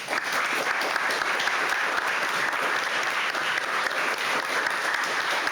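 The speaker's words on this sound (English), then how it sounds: "I would like for you to give these two gentlemen a second round of applause." Sustained applause from a live audience for two speakers after an evening panel discussion on the energy transition, steady dense clapping throughout with no voices on top.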